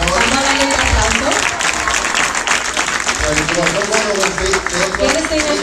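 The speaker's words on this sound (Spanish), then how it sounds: "Let's give them another round of applause." Applause from the congregation at a church certificate ceremony for a Spanish discipleship program, a loud, dense clatter of many hands that runs steadily throughout, with voices and some music-like tones mixed in underneath.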